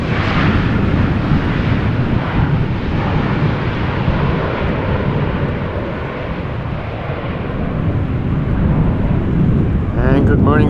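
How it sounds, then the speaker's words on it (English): A KLM Boeing 737 arriving from Paris Charles de Gaulle on a gusty crosswind day at Amsterdam Schiphol roars steadily overhead with heavy wind buffeting, and a voice cuts in briefly at the end. "Little KLM 737 returning from Paris Charles de Gaulle."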